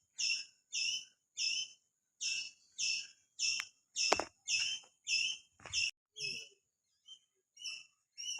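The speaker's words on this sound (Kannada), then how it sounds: "ಯಾವುದೋ ಪಕ್ಷಿ ಕೂಗ್ತಾ ಇದೆ." A bird calls outdoors near Gokarna, repeating a sharp, bright two-part chirp about fourteen times in an even rhythm, fairly close and clear against a quiet background.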